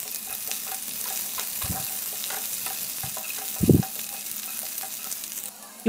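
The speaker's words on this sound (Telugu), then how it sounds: "అవి కొద్దిగా ఫ్రై అయిన తర్వాత వీటిలో సన్నగా కట్ చేసి పెట్టుకున్న ఉల్లిపాయ ముక్కలు అలాగే చీలికలు చేసి పెట్టుకున్న 4 పచ్చిమిర్చిని కూడా యాడ్ చేసుకొని ఫ్రై చేసుకోవాలి" Sliced onions and four slit green chillies fry in oil in a pan, giving a steady low sizzle with intermittent stirring scrapes and a couple of louder clatters near the end; no one speaks.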